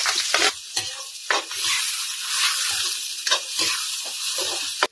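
Garlic and onion sizzle loudly in a pan for pork caldereta, a bright continuous hiss broken by several sharp spoon scrapes and stirring knocks, close and with no talk.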